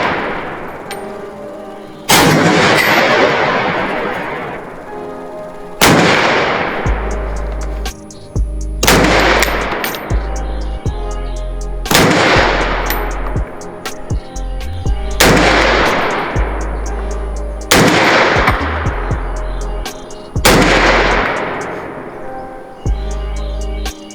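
A Smith & Wesson M&P 10 rifle chambered in .308 fired at a range: six loud, heavy shots spaced a few seconds apart, each with a long ringing echo trailing off.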